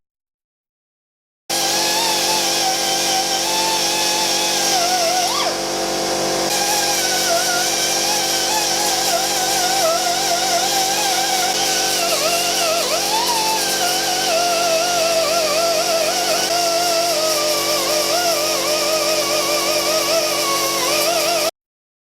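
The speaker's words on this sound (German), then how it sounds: "Das war jetzt circa eine halbe Stunde Schleifen." A power sander whines steadily and loudly for about twenty seconds on Toyota Supra car bodywork, with a brief dip in tone partway through, no voices.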